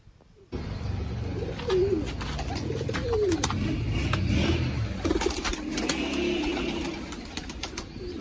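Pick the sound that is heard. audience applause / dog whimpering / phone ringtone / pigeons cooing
pigeons cooing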